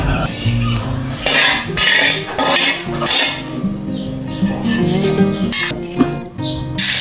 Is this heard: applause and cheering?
no